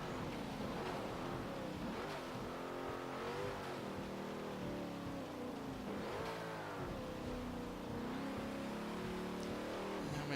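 A 2017 Ram 2500 Power Wagon engine roars in Forza Motorsport 7, revving continuously and loudly, its pitch rising and falling through gear changes and corners with no break.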